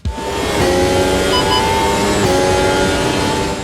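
A race car on a hot lap in the Automobilista racing game, its engine droning loud and steady at high revs as it sweeps past close by, with a slight pitch change partway through and no talking.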